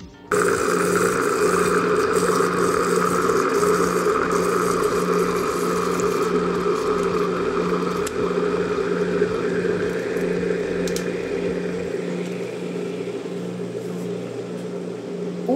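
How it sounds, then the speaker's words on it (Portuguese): A blender mixes mayonnaise, running steadily with a loud, even motor whir and a churning hum; partway through, the tone shifts slightly softer and smoother as it thickens. No talking. "Vou colocar o barulho aí do liquidificador, como que ele faz quando ele muda aí o barulho"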